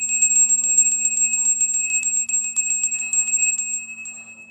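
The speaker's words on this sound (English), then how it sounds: "I'm going to ring my bell just to clear the energy." A small bell rung during a tarot reading, with a string of rapid, clear metallic strikes merging into a sustained bright ringing tone that slowly fades.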